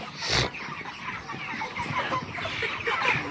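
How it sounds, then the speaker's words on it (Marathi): Broiler chickens cluck steadily through a noisy poultry shed, with one louder burst near the start and a continuous background of poultry chatter. "हे बघा ही कोंबडी आहे बॉयलरमधली कोंबडी आहे"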